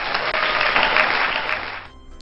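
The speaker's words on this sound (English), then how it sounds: "Insert applause." Applause plays as a sound effect in the Higurashi When They Cry visual novel, a dense burst of many clapping hands that stays loud for nearly two seconds, then cuts off abruptly into near silence.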